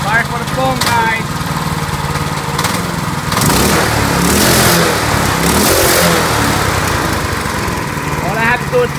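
A 212cc Predator small engine runs loud and close, rising and falling through several revs, with a voice briefly over it.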